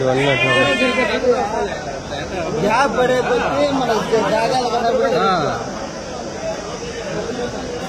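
Sheep bleat repeatedly at a busy sheep market, several loud wavering calls close by, mixed with people chatting and bargaining in the background.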